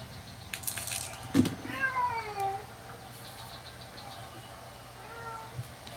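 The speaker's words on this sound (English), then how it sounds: "Oh, the cat's calling me." A house cat meows a couple of times, clear and fairly close, with drawn-out rising and falling cries and a quieter call near the end over a low steady hum.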